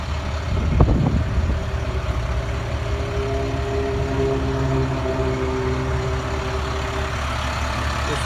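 A 2012 International Durastar Altec utility bucket truck idling steadily nearby, a low continuous diesel rumble with a faint hum. A brief louder knock comes near the start, then the engine settles into an even idle.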